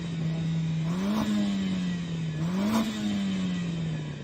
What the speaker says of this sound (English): Yanni, rev up your engine.